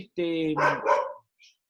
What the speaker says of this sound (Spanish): vamos a esperar a ver si el loco deja de ladrar o tengo que cerrar la puerta